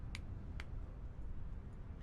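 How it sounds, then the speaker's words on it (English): Two sharp, crisp claps about half a second apart, heard over a steady low rumble of background noise. "She claps her hands once again."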